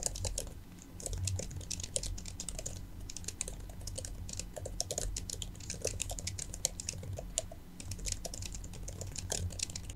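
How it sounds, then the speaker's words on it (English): Steady typing on an M2 MacBook Air keyboard, with rapid soft key clicks in an irregular continuous patter, close and quiet, with no talking. "after typing on this for a while and resting my hands on the edges"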